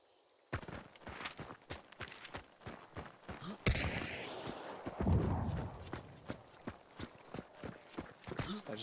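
Horse hooves clip-clop in the video game Hunt: Showdown, a fast, even run of sharp hoofbeats that swells louder midway and then settles back to a steady rhythm, with faint voices in the background.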